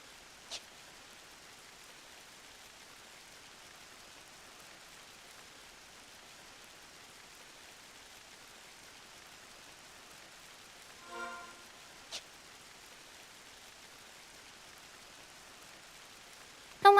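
Steady soft rain falls throughout a Final Fantasy XI game scene, a faint even hiss with a couple of sharp clicks and a brief rattling sound partway through.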